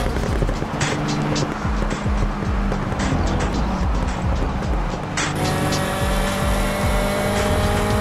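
A car engine revving and accelerating in a car stunt racing game, loud and close with rapid rattling bursts and a sharp jump in pitch partway through.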